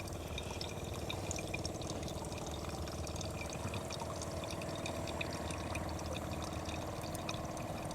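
Filtered river water pours steadily from a portable Purewell reverse osmosis system into a clean jar, a continuous close splashing stream with no talk.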